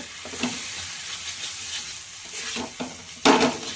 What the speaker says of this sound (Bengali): এই যে ধনে পাতা দিয়ে এবার ভালো করে নাড়াচাড়া করব।